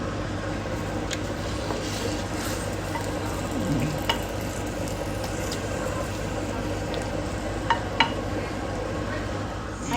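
Chicken caldereta boils in a pot with a steady low bubbling and sizzling bed. Occasional light clicks of a spoon or utensil come through, with no talking.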